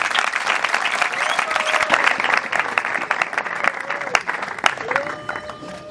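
Steady applause from a church congregation at a wedding service welcoming the bride and groom, dense clapping throughout with a few louder individual claps and a voice briefly rising over it.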